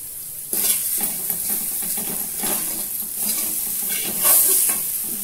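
Khichdi ingredients and vegetables sizzle in a pan as a utensil stirs them, with repeated scraping strokes and clinks against the metal over a continuous close frying hiss.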